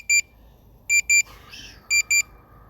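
Potensic Atom drone controller beeping during return-to-home: four short, loud, high electronic beeps in two pairs, with a brief softer tone between them.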